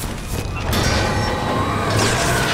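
A fiery explosion in the video game BioShock Infinite erupts as a loud, rumbling boom with crashing debris noise, swelling and sustaining over a couple of seconds amid game combat sounds.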